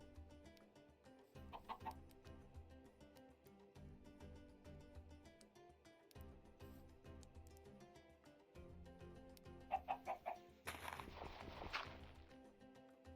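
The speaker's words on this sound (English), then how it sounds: "Okay, I'm gonna run around and try and look for a chicken." Chickens cluck in Minecraft over a bed of game music, with a few short clucking bursts around the start and again near the end, a brief louder flurry of sounds following the later bursts.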